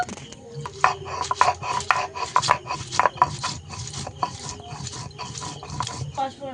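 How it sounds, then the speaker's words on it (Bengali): Whole dried red chillies being ground by hand on a grinding stone in a home kitchen, a steady rhythmic rasping and rubbing scrape close up, with a voice talking over it. "আমি কয়েকটা গোটা লঙ্কা নিয়ে নিয়েছি বেটে নেব"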